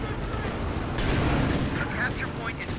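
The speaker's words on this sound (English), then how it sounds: "Infiltration grenades onto the decrewed M1AT gun. M1AT gun does get destroyed there" Grenade blasts wreck an M1AT anti-tank gun in Company of Heroes 2, a dense rumbling explosion with crackling debris that swells midway, under continuous battlefield noise and a talking voice.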